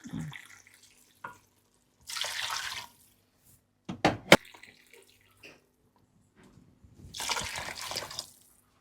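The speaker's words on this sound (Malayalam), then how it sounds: "സ്റ്റോക്ക് വാട്ടർ ആദ്യം ഞങ്ങളൊന്ന് ഒഴിച്ചേക്കാം" Stock water poured into a pot of rice in a home kitchen, heard as two or three separate splashing pours of moderate loudness with quiet gaps between them.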